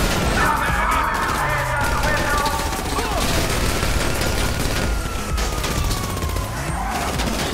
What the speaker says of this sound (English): I'm gonna shoot the cops